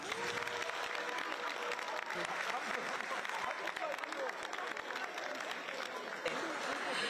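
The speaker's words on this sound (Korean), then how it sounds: "전임 지도부께도 감사의 박수 부탁드립니다." Applause for the former leadership fills a Democratic Party ceremony hall, steady crowd clapping, with faint chatter and murmuring voices mixed underneath.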